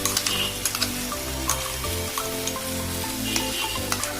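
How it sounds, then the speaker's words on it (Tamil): Ground chili paste frying in a pan with softened onion and tomato for a Burmese fish curry, a continuous close sizzle broken by repeated sharp stirring clicks and scrapes. "நம்ம அரைச்சி வச்சிருக்க மிளகா அந்த பேஸ்ட்டை போட்டு ஆட் பண்ணிக்கலாம்."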